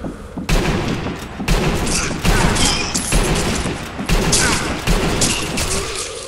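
Rapid, repeated gunfire from the video game Sniper Elite V2 in multiplayer, with about six sharp shots arriving roughly once a second, loud and dense over a busy game soundscape.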